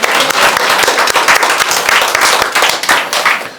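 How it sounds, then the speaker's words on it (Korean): Church congregation clapping during a Korean Sunday morning worship service, a dense, loud burst of applause from many hands, steady throughout with no talking. "우리를 하나님과 화목케 하신 우리 주 예수 그리스도께 영광의 박수 올려드립니다"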